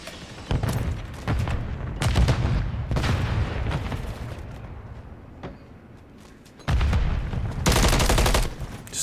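Rapid gunfire rattles through a Call of Duty league match, with dense bursts of shots and booms in the first half, a quieter stretch, then another loud volley near the end.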